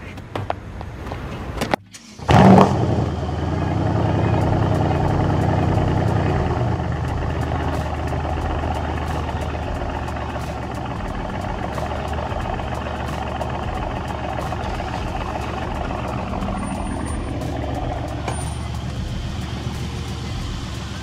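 A car rolls backward off a trailer while a truck idles, its steady engine drone running loud and continuous after a brief thump and pause, with a voice briefly heard near the start.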